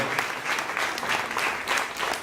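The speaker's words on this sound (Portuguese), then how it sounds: "Uma salva de palmas bem forte por essa vida" A church congregation breaks into strong applause, a dense crowd of hands clapping in pulsing swells that stay loud and continuous from start to finish.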